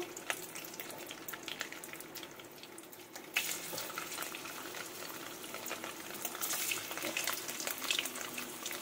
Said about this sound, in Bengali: এবার আমি কিন্তু পনিরগুলোকেও একটু ভেজে নেবো বন্ধুরা, একদম অল্প করেই ভাজবো।